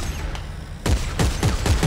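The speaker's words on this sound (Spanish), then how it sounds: "Es como una ametralladora." Secondary fire of a weapon in Dead Space 3 on PS3, a rapid machine-gun-like burst: after a quiet start, a string of loud repeated shots with a steady rhythm, close and dry.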